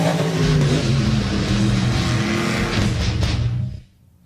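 Monster truck engines revving hard during a race, a loud, dense, continuous roar that drops away abruptly near the end.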